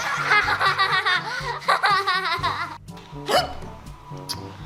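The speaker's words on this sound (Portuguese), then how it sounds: "Toda vez que eu soluço, eu erro a tecla." A child hiccups repeatedly, sharp little gulping catches mixed with giggles and snickering laughter, close and loud, ending in a short squeal.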